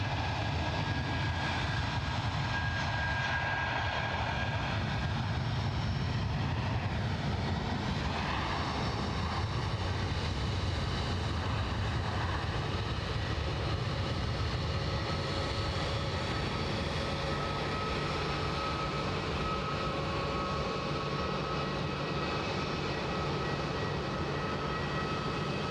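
A British Airways airliner takes off at Edinburgh Airport, bound for London City, its engines giving a steady, sustained roar with a faint whine that holds at an even level throughout, with no voices.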